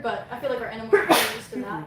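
One sharp, loud human sneeze cuts into the middle of a live animal-park tour broadcast, with a person talking just before and after it.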